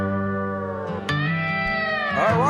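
Several cats meow at a nighttime outdoor kitty party, long drawn-out cries rising and bending in pitch, close and loud, overlapping one another with no talking.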